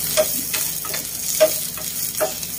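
Minced garlic and sliced onions sautéing in hot cooking oil for Filipino pancit bihon, a steady close sizzle with soft periodic scraping from stirring.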